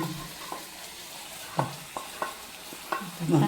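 Tirunelveli halwa stirred in a pan, a soft bubbling sizzle broken by several distinct scraping strokes of the spoon at uneven intervals, close and fairly quiet, with no speech.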